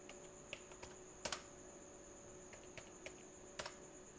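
Someone types on a computer keyboard while entering a numbered list in MS Office Word 2021, with sparse, faint key clicks and a couple of quick double taps over a quiet background.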